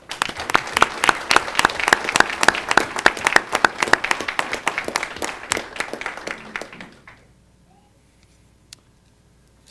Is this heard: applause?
yes